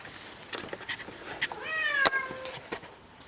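A cat meows once in a clear, rising-then-falling call, close to the microphone, among light taps and handling noise in a garage setting.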